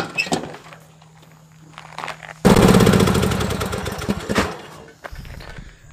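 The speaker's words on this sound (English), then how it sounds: "gotta get the carburetor adjusted right so it's not surging like that" Troy-Bilt Pony 15.5 HP riding mower engine with a replacement carburetor, idling quietly, then suddenly surging into a loud, rough, rapid roar that fades and drops back to a low idle near the end.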